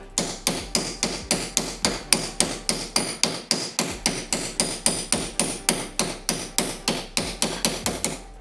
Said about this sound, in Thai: ใช้ค้อนนี่แหละ ย้ำตัวที่แกนครับ